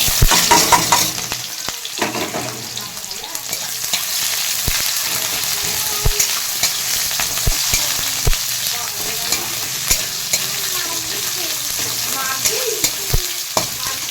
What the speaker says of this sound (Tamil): வெங்காயம் காஞ்ச மிளகா அதுக்கப்புறம் பூண்டு இடித்து வச்ச பூண்டு வந்து இதில் ஆட் பண்ணிக்கலாம் பாருங்கள் நல்லா பொரிஞ்சிட்ருக்கு